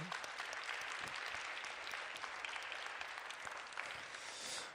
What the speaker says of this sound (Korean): 우리 잘하라고 격려의 박수 한번 해주시겠어요?